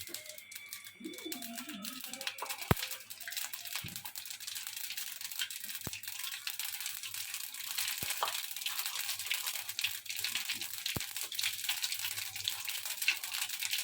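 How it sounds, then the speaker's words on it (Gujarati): Mustard seeds crackle and pop in hot oil in a pan for a tomato and sev curry, a steady dense sizzle of small crisp snaps with a few sharper pops, heard close and fairly quiet. "રાઈ એને તડતડ અવાજ આવે કે ફૂટી ગઈ"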